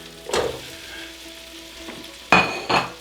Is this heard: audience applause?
no